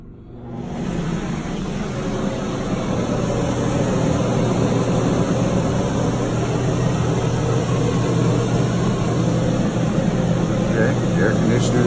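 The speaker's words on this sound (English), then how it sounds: "I'm going to turn on the air conditioner." Dometic Brisk Air II RV air conditioner fitted with an EasyStart 364 soft starter, starting up and then running as a steady, loud broadband hum with a low drone throughout.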